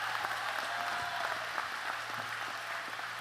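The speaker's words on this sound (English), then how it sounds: "Go ahead, give her a big round of applause." Audience applause at a 2024 high school graduation ceremony, a steady, fairly quiet wash of clapping from a large crowd, with a low hum running underneath.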